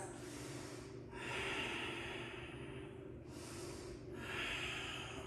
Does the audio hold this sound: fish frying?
no